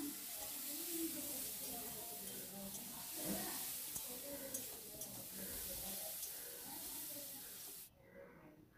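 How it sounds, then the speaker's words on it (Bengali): Egg curry masala with salt and turmeric, thinned with a splash of water, fries in a pan with a steady, soft, hissing sizzle that carries on for about eight seconds before cutting off abruptly. "এটা ভালো করে ভাজা হয়ে যাচ্ছে"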